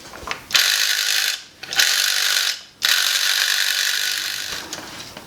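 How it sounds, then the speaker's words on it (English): A 1981 AT-AT Walker toy's electric motor whirs mechanically up close, running in three loud bursts with brief pauses between them and a gear-like ratcheting texture. "So all this does is just drives an electric motor, which makes a mechanical noise."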